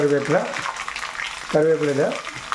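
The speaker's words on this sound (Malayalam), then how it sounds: "കടുക് പൊട്ടിക്കൊണ്ടിരിക്കുകയാണ്" Mustard seeds crackle and sputter in hot sesame oil with a steady frying hiss, while a person speaks over them in two short stretches.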